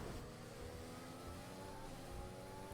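A Formula 1 car engine in the racing video game F1 2020, during a defensive online race with front wing damage: a steady, fairly faint high-revving engine drone that holds on without a break.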